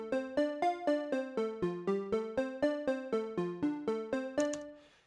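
A synth sound-alike sequence programmed in Logic, imitating a song intro, plays a steady run of bright plucked notes at an even rhythm, ending with a brief flourish and a fading tail, alone with no talk.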